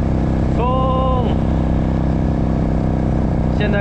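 A motorcycle engine droning steadily at full throttle in third gear while climbing an evening mountain road through forest in Indonesia, with a passing car's tone briefly rising over it.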